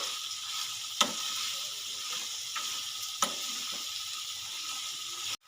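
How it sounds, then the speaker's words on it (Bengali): Chopped green chillies, peas and vegetables frying in a pan for spring roll filling, a steady close sizzle with a couple of sharp utensil taps against the pan, no talking. "কাঁচা লঙ্কা কুচি দিয়ে এটা আমি ভালো করে কষিয়ে নেব"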